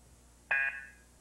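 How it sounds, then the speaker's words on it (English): A game show buzzer sounds once to end round one, a single sharp electronic tone lasting about a fifth of a second with a brief ringing tail, loud and clear against a quiet studio background. "there is the buzzer ending round one"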